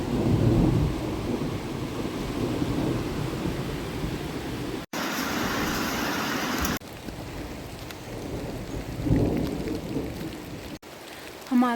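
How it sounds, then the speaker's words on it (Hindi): A thunderstorm on the Roopkund mountain trek brings steady heavy rain with low rumbles of thunder, loud and continuous, interrupted by a couple of abrupt cuts and a brief louder hissing burst. "अब बिजली कड़कने की आवाज़ आने लग गई थी, बारिश का बिल्कुल मौसम हो गया था।"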